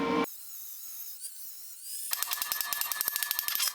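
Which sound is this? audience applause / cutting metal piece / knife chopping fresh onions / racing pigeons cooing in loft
cutting metal piece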